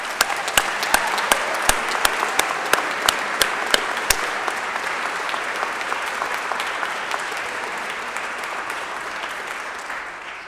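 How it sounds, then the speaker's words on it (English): Sustained applause from an audience at a college graduation ceremony, with sharp individual claps standing out at first, then a dense steady patter that slowly tapers off. "join me in giving a round of applause to all these unnamed individuals"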